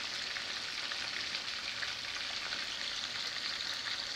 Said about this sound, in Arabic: هي الدجاجة كتحمر في الزيت.